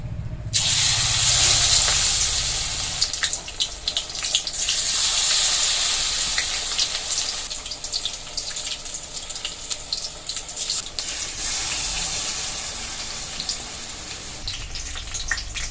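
Pumpkin leaf fritters stuffed with dried fish and dipped in gram flour batter fry in hot oil, giving a steady, close sizzling hiss that carries on without pause and with no voices.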